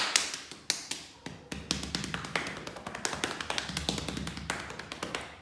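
Hands tap on different parts of the body in quick, uneven rhythm, each sharp close slap or pat shifting in tone from spot to spot, with no talking.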